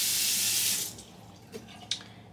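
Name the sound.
water running to wet an eyelash shampoo brush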